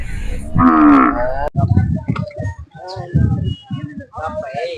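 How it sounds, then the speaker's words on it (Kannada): At a cattle fair in Vijayapur, a bullock lets out one loud, close moo, followed by people talking amid the crowd's bustle. "ಇಲ್ಲೊಂದು ಜೋಡಿ ಎತ್ತುಗಳಿದೆ"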